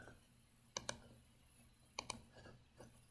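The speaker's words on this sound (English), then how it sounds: "I'm going to start typing" Quiet keyboard typing: a few sharp key clicks in small pairs, spaced apart, close and crisp against a faint hum.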